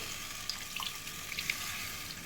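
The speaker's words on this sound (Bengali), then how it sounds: "এবার আমি একটু জল দিয়ে দিচ্ছি পরিমাণ মতো জল দিচ্ছি" Water is poured into a simmering taro and prawn curry in a cooking pan, giving a steady frying sizzle and hiss with a few brief splashy crackles.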